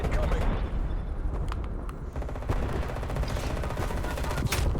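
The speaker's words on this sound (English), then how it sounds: "Napalm strike incoming." Video game napalm strike in a shooter match: dense bursts of gunfire and rumbling explosions, loud and continuous, with a voice talking over the action.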